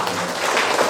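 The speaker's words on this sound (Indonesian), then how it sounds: "Oke, tepuk tangannya mana?" Applause at a regional legislator's village recess gathering, a brief, dense burst of many people clapping together, loud and continuous with no pauses.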